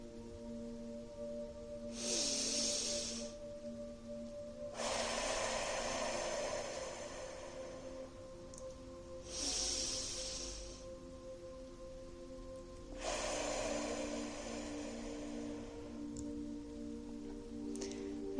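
Slow, deep breaths during a guided energy-healing relaxation session, four long soft airy inhales and exhales spaced several seconds apart over a faint steady hum, quiet and unhurried.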